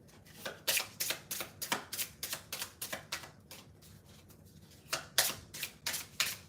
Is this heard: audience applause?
no